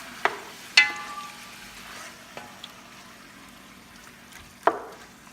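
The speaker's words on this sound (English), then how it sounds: "So we're gonna pan fry it first." Chicken and pork pan-frying, a soft steady sizzle in the pan punctuated by a few sharp clinks and taps of utensils, quiet and close, no talking.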